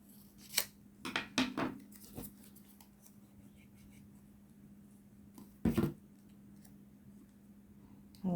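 Scissors snip through a paper tag to cut it in half, giving a few quick close crisp cuts clustered early, then one more after a quiet pause, in a near-silent room.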